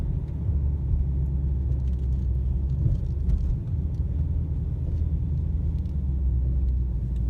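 A loud, steady low exhaust rumble from a 2017 Dodge Challenger T/A 392 accelerating, continuous throughout with no break and no voices.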